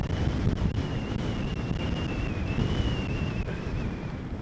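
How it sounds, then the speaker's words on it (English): Strong wind gusting across a snowy mountainside while splitboarding: loud, continuous rushing and buffeting against the microphone, with a faint whistling tone running through it. "the wind is really picking up"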